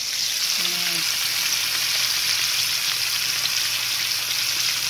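Snapper frying in hot oil, a loud, dense and continuous sizzle held close up throughout, with a brief tonal sound early on.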